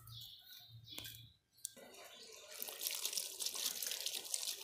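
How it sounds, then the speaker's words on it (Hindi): Water poured from a container onto a potted plant's soil, starting after a brief pause and becoming a steady, close, bright splashing and trickling that runs to the end. "अब मैं इसको पानी देती हूँ।"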